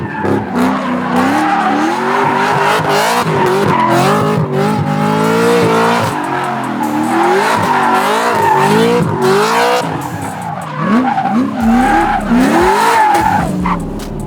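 A 610hp sequential-shifting Trans Am doing donuts, its tires squealing and skidding in loud, looping wavering screeches over a revving engine, with no talking.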